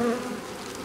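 Black honey bees buzz around their hives in a conservation apiary in the Orne, a soft continuous droning hum heard for under a second at moderate distance.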